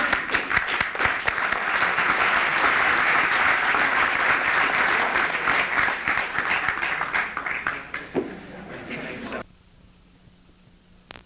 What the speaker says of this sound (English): I'm sure the participants will applaud